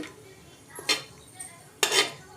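A spoon scrapes and clinks against a pot while tomato rice is stirred, two sharp metallic knocks standing out over soft scraping, close and fairly quiet.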